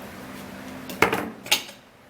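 A utensil mixes ingredients in a bowl, giving two sharp clinks about half a second apart over a quiet background.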